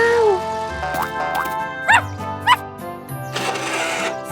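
A small cartoon dog yips a few times in short, bright bursts over playful animated music and springy sound effects.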